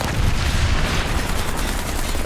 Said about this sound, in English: IS-3 fired, 75mm cannon breech absorbed the shot